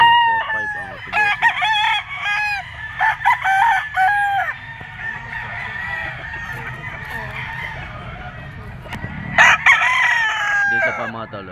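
Gamefowl roosters, including a yellow-legged Sweater bull stag and Hatch Grays, crow repeatedly and cluck at a crowded farm, several birds overlapping close by with a burst of louder crowing near the end and some background voices.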